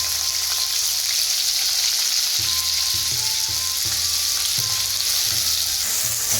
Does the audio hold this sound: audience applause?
no